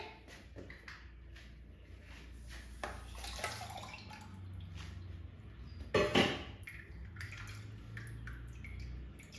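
Strained tamarind water splashes and trickles into a vessel, with a louder pour burst midway amid soft clinks and background hum.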